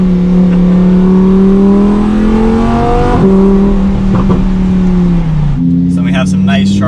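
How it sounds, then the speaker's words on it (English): A Lamborghini Huracan EVO V10 revs and pulls hard from inside the cabin, a loud sustained engine note rising and falling, with a shift and crackling exhaust pops toward the end as the car slows. "That V10 is something else. How you have all the pops and everything."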